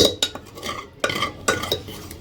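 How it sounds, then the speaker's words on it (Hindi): A stuffed paratha is shifted into another pan with a metal utensil, giving a few sharp scraping and clinking hits in uneven succession, close and fairly clear, with no talking. "चलो, तो स्टफ पराठे को अब हम दूसरे बर्तन में निकाल लेते हैं।"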